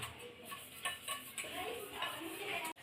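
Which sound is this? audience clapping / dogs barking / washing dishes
washing dishes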